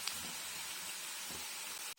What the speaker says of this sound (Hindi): देखिए ये तड़का हो रहा है।